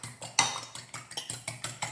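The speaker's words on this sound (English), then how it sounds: "crack an egg and just beat it with a fork" Fork clinking briskly against a bowl while an egg is beaten for glazing pastry, a steady run of about ten sharp metallic taps in quick rhythm, close and clear with no talking.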